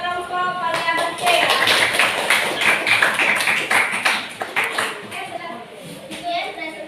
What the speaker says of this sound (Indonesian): beri aplaus untuk kelompok variabel C